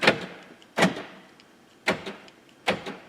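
Manual locking of the passenger door on a Saturn Aura XR, heard as four separate mechanical clunks of the lock at irregular intervals, close and fairly loud, with no voices.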